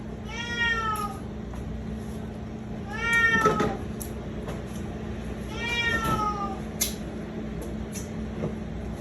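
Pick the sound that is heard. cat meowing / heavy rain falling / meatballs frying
cat meowing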